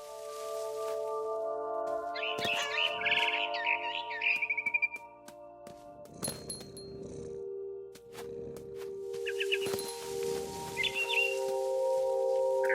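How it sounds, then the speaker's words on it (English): A barn swallow chirps outside a window in What Remains of Edith Finch, bursts of quick high twittering over a sustained musical drone, with soft rustling thumps and more chirps later on. "Then I heard chirping outside my window. It was a barn swallow going back to her nest."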